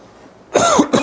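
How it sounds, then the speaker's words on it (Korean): A single habitual cough, loud and close, bursting out after a quiet stretch and followed by a brief second throat sound near the end. "습관성 기침이에요."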